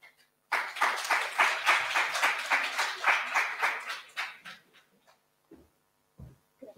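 A hall audience at a school reading-contest awards gala claps for about four seconds, a dense round of applause that fades into a few scattered claps and quiet.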